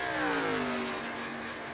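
A racing truck in the iRacing Truck Series at Charlotte pulls off pit road. Its engine is a close, loud drone whose pitch slides steadily downward, with no talk.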